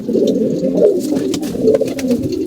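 Pigeons coo in low, throaty, overlapping calls, close by and fairly loud, with a few faint clicks and rustles in the background.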